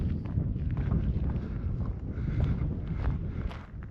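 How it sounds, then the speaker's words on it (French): Wind rumbles and buffets against the microphone outdoors at the old Mazarrón mines, a continuous low roar with slight surges and no talking. "Par contre, il y a un peu de vent."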